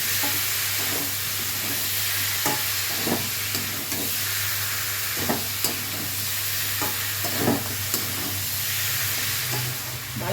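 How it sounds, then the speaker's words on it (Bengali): Amudi fish coated in salt, turmeric and chili powder fries with vegetables in a pan, a loud continuous sizzle and hiss with occasional scrapes of stirring, close and steady with no talk. "এবার দেবো আমুদি মাছ, নুন হলুদ আর লঙ্কার গুঁড়ো মাখানো ছিল,"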